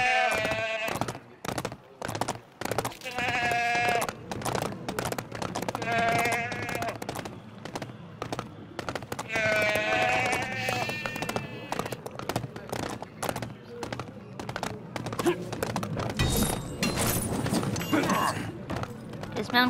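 Sheep bleating in LEGO The Hobbit, several repeated nasal bleats spaced across the stretch, mixed with hoof-like clopping steps and game effects.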